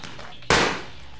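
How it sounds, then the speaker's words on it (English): A single gunshot in the video game Watch Dogs 2, one sharp loud crack with a short decaying tail standing out against low background game ambience. "Was that a gunshot?"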